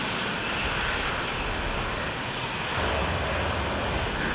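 B-1B bombers in Falcon 4 Allied Force roar down the runway for takeoff, a steady, loud, broadband engine rumble with no pauses.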